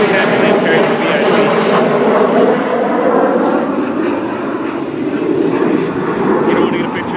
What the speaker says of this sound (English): Would you want to get a picture of the plane?